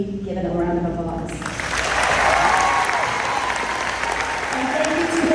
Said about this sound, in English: So he has huge commitment and deserves to be given a round of applause.